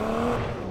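Lamborghini driving in the racing video game Need for Speed Payback, a steady engine tone with a faint harmonic whine, loud and close without a break, no voices over it.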